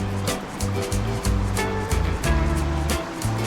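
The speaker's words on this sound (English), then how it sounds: "Got my first creek crossing." Rushing creek water in Yosemite flows steadily with broad, noisy texture, punctuated by brief low thumps and splashes close by from wading across.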